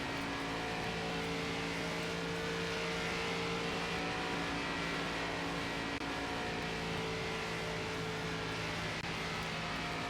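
ARCA race car engine held at full throttle in NASCAR 25 on the Kansas track, a steady sustained drone with constant pitch throughout and no talk.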